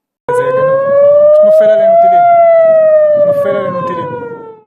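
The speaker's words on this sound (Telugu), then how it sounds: "టెహ్రాన్ ఇస్ఫహాన్ మాషాద్ వంటి నగరాల్లో వార్ సైరన్లు మోగుతున్నాయి" A war air-raid siren wails in an Iranian city, one long loud rising-then-falling tone sustained for several seconds with faint voices underneath.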